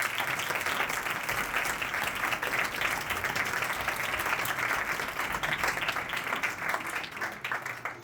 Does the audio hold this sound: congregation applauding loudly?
yes